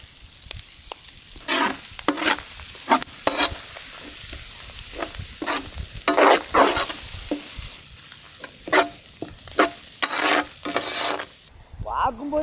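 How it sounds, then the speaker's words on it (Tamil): River mussels frying in oil and being stirred, close crackling sizzle with repeated bursts of scraping and stirring through most of the stretch, no talking. "எண்ணெயில் நல்லா வேக வைக்கணுமுக்கா."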